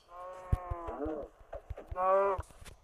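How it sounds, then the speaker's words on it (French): Two short, nasal moos from a cow in the video game Minecraft, close and clear, separated by brief clicks and soft game sounds. "Je vais d'abord tuer la vache ici. Non, les vaches, il y en a deux."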